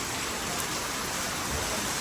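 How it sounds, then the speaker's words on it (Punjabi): Heavy rain pours down steadily in a dense, unbroken hiss, with wind adding to the roar; it stays loud and even throughout with no talk. "ਬਹੁਤ ਤੇਜ਼ ਮੀਂਹ ਪੈ ਰਿਹਾ"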